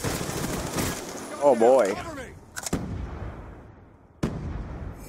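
KSG shotgun blasts in Black Ops II multiplayer: a few sharp, loud bursts separated by quiet gaps, mixed with game effects and a player's brief exclamation.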